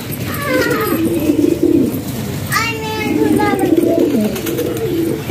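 Fancy pigeons feeding on scattered grain, their soft throaty coos rising and falling close by while someone talks over them throughout.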